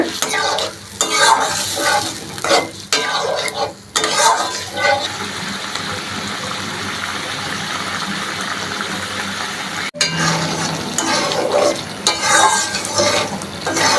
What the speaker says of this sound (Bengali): ডালটা দিয়ে একটু কষিয়ে নিতে হবে